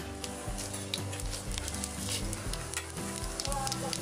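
Asafoetida sizzles steadily in hot oil in a kadai, a dense close crackle with soft rhythmic pulses as it is stirred, and no voices.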